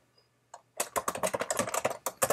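Typing on a computer keyboard while entering notes into a field in the Anki flashcard app, heard as a quick, close burst of crisp key clicks in an irregular rhythm after a brief pause.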